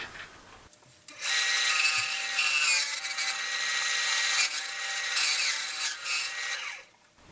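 A wooden vase being hollowed on a lathe with carbide cutters gives a sustained, bright scraping hiss that starts abruptly after a quiet moment, varies slightly in pressure and cuts off near the end.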